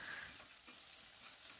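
Tomato sizzles with ginger garlic paste as it is stirred in a hot pan, giving a steady soft crackle and scrape with no talking.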